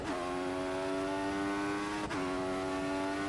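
Formula One race car engine in an F1 video game at Circuit of the Americas: a steady, loud, whiny high-pitched drone with stacked harmonics, briefly dipping as it shifts gear near the end, with no voices.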